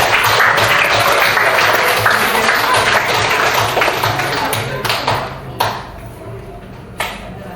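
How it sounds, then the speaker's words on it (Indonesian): Applause for a group of participants in a classroom coaching session, dense and loud for several seconds before thinning out into a few scattered claps. "kita beri aplaus untuk kelompok 8"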